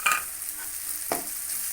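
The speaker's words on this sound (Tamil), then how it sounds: "நல்லா கிளறி விட்டுட்டு" Masala mixture being stirred into fried onion and tomato for a spiced pumpkin poriyal: steady oil sizzle under a utensil scraping the pan, one sharper scrape near the end, no voices.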